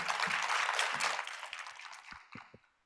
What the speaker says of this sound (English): So let's do one quick round of applause again.